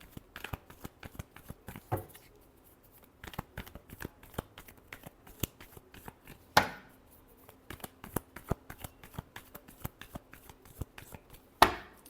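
Tarot cards are shuffled by hand, close up: a steady patter of soft card flicks and riffles, with a few sharper slaps and taps, and no talk.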